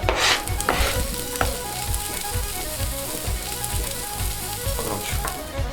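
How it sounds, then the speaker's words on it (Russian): Chopped onion frying in a pan while cooking potato-filled kystybyi flatbreads, a steady dense sizzle and crackle throughout, with repeated soft scraping strokes as it is stirred. "И обжариваем на сковородке."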